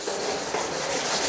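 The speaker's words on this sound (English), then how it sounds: "Oh, sand this down." Sandpaper scuffing a car's driver-side fender by hand to dull its shine before spray-can painting, a steady close-up rasping rub that carries on without pause.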